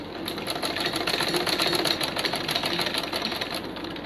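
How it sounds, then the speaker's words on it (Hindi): A sewing machine rapidly stitches a homemade fabric face mask, a steady close mechanical whir with a fast, even needle rhythm running throughout. "अब मैं सिलाई लगा रही हूँ।"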